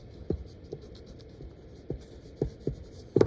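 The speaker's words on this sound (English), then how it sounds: "Then I'm going to erase a bunch of parts of this." A pencil eraser rubs on paper during cartoon drawing in an art class, making short, intermittent scratchy strokes over a low steady hum.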